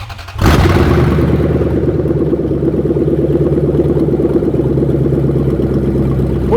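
A GAZ-24 Volga fitted with a V8 engine cranks and fires after a brief moment, then settles into a steady, loud, rumbling idle with a rhythmic low throb close by.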